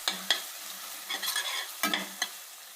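A paste of ginger, garlic and green chilli fries in a pan, a close steady sizzle broken by scraping and clinking as a spoon stirs it several times.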